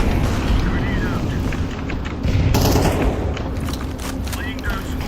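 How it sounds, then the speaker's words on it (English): A grenade explosion in Counter-Strike 2 booms amid dense, continuous gunfire and battle noise, loud and chaotic throughout. "Grenade out."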